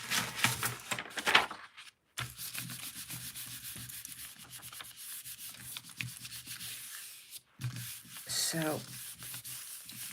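Paper rubbed firmly by hand onto a gelli printing plate, a steady close scratchy rubbing that runs in long strokes with brief pauses, and one short spoken word near the end.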